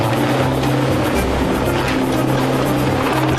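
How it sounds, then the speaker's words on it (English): A hovering rescue helicopter lifting a person off slippery rocks above rough water, its rotor and engine noise a loud, constant throbbing roar with no voices. "The chopper pilot begins to raise his cargo."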